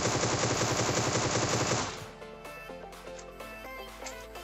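Rapid automatic gunfire in the PUBG video game, a dense burst of shots that cuts off after about two seconds, followed by quieter game sounds.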